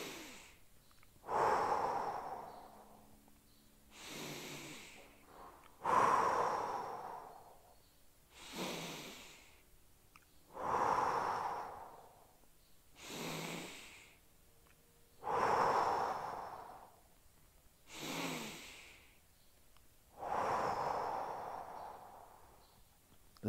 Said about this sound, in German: jetzt atmen wir mal hier seitlich in die Flanke rein, um diese Länge nochmal zu verstärken und wieder 5 Atemzüge